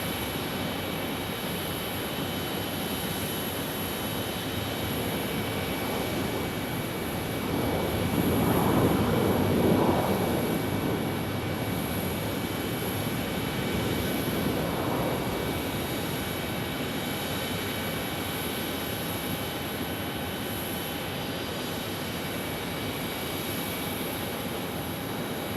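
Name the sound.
Boeing 737 MAX 8 jet at Phoenix Sky Harbor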